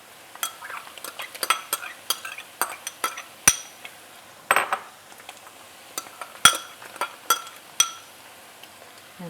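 Vegetables going into browning ground beef for Bolognese sauce: a string of sharp spoon and pan clinks and scrapes over a soft, low frying sizzle, close by.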